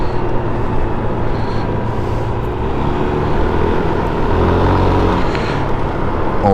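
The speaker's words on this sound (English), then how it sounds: "Drift cars here." Drift cars perform at an outdoor event, engines revving steadily and loudly with a continuous roar of motors and tire noise throughout, heard close to nearby.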